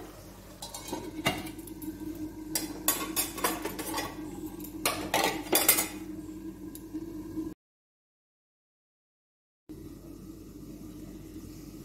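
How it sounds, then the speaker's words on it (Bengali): A lid set onto a cooking pot of bottle gourd and prawns, a burst of metallic clinks and knocks close by. Low background hum follows, then a short silence. "ঢাকাটা দিয়ে দিচ্ছি এবারে"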